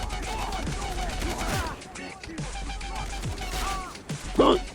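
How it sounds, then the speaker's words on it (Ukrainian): Rapid bursts of gunfire in the video game Far Cry 3 crackle over a busy background, with a louder blast near the end and some voices mixed in. "Досить по мені стріляти"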